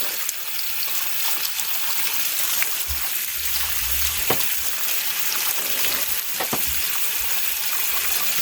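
A processed turkey is washed under running water, a steady, loud rush that continues throughout, with a few dull thumps and clunks as the bird is handled, and no one speaking.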